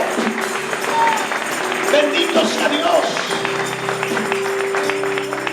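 A church congregation claps along in praise during a worship service, rhythmic hand claps under a loud preacher's voice and background music.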